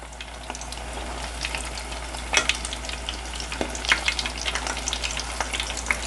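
Steady sizzle of crawfish frying in hot oil with scattered sharp pops and crackles, close up and continuous.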